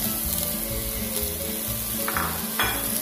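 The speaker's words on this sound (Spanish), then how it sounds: "Ahora es el turno de agregarle las calabacitas en cuadros" Diced zucchini sizzles steadily in a hot pan with poblano pepper, carrot, onion and salt, a loud continuous frying hiss with a few brief stirring scrapes and no voices.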